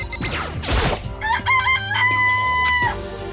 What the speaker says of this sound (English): Oh wait, what was that? It's a chicken.